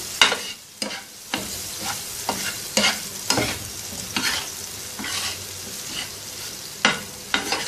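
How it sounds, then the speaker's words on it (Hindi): Tawa kaleji (mutton liver) being stirred with salt and lemon juice on a hot griddle: a soft continuous sizzle broken by sharp, regular spatula scrapes and clacks about every half second, close and clear, no voices. "आधा चाय का चम्मच नमक, 1 चाय का चम्मच नींबू का रस। अच्छी तरह से मिक्स कर लेंगे।"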